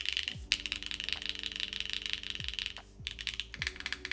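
Soft, muted typing on a PC keyboard during a build, with quick uneven keystroke clatter close by and brief pauses between bursts.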